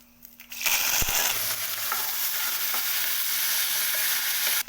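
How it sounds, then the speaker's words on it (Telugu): Fresh curry leaves dropped into hot oil in a pan burst into loud sizzling frying that continues steadily, with a few stirring clinks, close up and without talk. "ఇప్పుడు దీంట్లో కొద్దిగా పచ్చివాసన అనేది పోయేదాకా మనం ఫ్రై చేసుకోవాలి."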